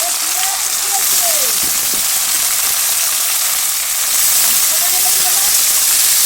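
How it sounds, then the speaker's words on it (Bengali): Vegetables frying in a pan for chowmein, a loud continuous hiss and sizzle with faint tonal scraping in places and no clear talk. "এই সবজিগুলোকে ভেজে নিচ্ছি ভালো করে"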